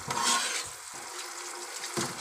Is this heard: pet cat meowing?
no